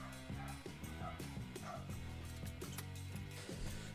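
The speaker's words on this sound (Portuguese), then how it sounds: "olha que legal esse monte de cachorro passeando aí" Several dogs out on a walk bark and yip repeatedly in a busy, overlapping chorus, fairly close, with some whimpering mixed in.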